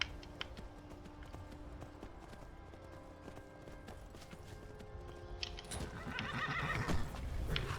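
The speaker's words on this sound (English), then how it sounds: "Get on your horse." A horse in the video game Skyrim neighs and whinnies, with clip-clop hoofbeats and creaking tack that build toward a louder galloping passage near the end.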